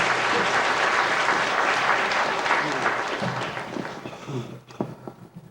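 Applause from a school spelling bee audience for a fourth-grade contestant, a dense burst of clapping that holds for several seconds before thinning out into a few scattered claps near the end.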